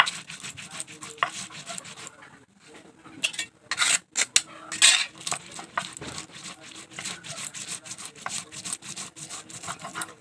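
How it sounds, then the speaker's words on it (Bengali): Mustard seeds with chili and salt are being ground on a flat stone shil-nora, giving a faint, irregular scraping and rubbing with a few clacks of stone on stone. "সরষা বাটার সময় এভাবে করে নিতে হবে, না হলে সরষার উপর দিয়ে শিলনোড়াটা নিলে সরষার বাটাটা তিতা লাগে"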